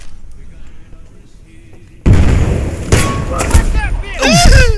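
Explosion in the Battlefield: Bad Company 2 video game, a loud sudden blast that erupts after a quiet lead-in and rumbles on with further booms and crackling debris, with voices talking over it.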